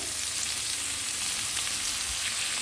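Broccoli florets sizzling and frying in a hot pan, a steady broadband hiss throughout with no voices.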